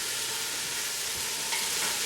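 Vegetables for minestrone soup sizzle and shift as they are stirred in a pot, a brief, steady frying hiss at moderate volume.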